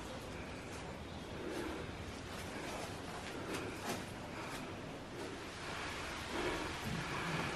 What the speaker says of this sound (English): We're currently taking refuge away from this horrendous downpour